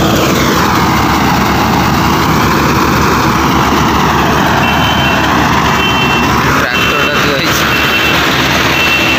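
A tractor loads freshly harvested rice paddy in the fields, its engine a loud, steady drone throughout, with high beeping tones cutting in near the end.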